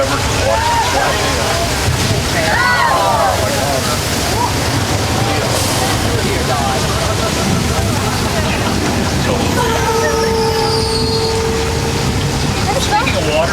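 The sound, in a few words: flood effect, thousands of gallons of water dumped from tank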